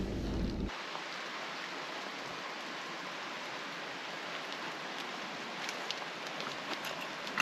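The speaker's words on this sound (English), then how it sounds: "it's still raining, the water's getting up a little bit" Steady rain falls at Swifts Creek along the Haunted Stream Track in Victoria's high country, a dense, even hiss with scattered drips on nearby surfaces, continuous throughout and with no voices.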